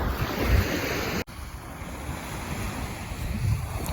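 Sea waves wash steadily onto the shore with gusty wind buffeting the microphone, and a brief dropout early on.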